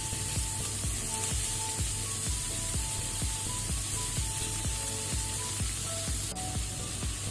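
Onion, ginger and green chilli frying in a pan over medium flame, a continuous close sizzle with soft crackles and a steady scrape of stirring throughout.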